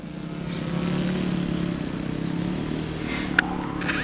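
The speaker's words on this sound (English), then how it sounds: "Hollywood biplane taking off" A small RC model Hollywood biplane engine drones steadily at close range for several seconds, holding a fairly even pitch, with a single sharp click near the end.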